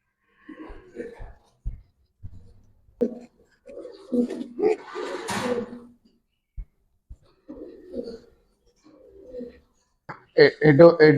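Pigeons, including military and jabra pankhi breeds, coo at a pigeon farm in soft, low, throaty bursts spaced irregularly, close by, with people talking intermittently between and over the calls.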